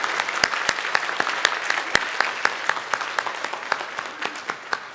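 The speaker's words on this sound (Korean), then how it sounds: "잠깐 일어서시면 박수로 환영하도록 하겠습니다" A church congregation at a Sunday worship service applauds to welcome new members with a steady, sustained round of clapping. Individual sharp claps stand out near the front of the sound.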